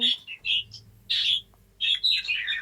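Bright, repeated bird chirps from a video game in short bursts over a low, steady hum, sounding electronic and close.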